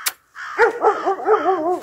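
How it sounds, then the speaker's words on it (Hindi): A pet dog in Canada barks in a quick run of sharp, close, loud yaps and yips, rising excitedly in a rhythmic string after a brief pause, with no talking over it. "देखिए इसको कुत्ते को है ना जैसे कोई पक्षी देखा तो पागल हो जाता है भैया"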